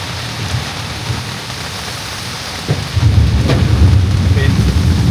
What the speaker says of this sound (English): it's just a massive storm